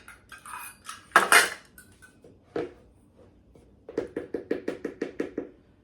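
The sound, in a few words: adding two cups of flour into a bowl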